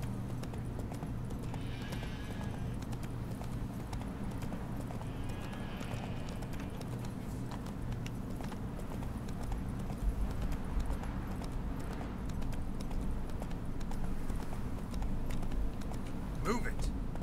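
Roach, the horse in The Witcher 3, gallops with a continuous rhythmic clip-clop of hooves at a quiet level, along with soft keyboard clicks and a brief whinny-like sound near the end.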